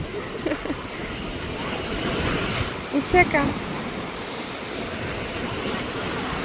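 Waves break steadily on the beach at Funtana, Croatia, a continuous rushing wash with wind buffeting the microphone, while a person speaks briefly in the middle.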